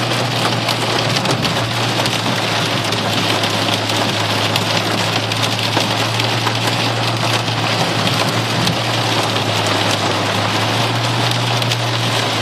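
Steady rain falls on a road in the dark with no pause, a loud, even hiss and patter of drops throughout and no one talking.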